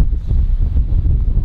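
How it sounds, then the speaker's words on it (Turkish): Heavy wind at the beach buffets the microphone in a constant low rumble, loud and close, with no other sounds coming through. "Biraz rüzgar var arkadaşlar ama yapacak bir şey yok."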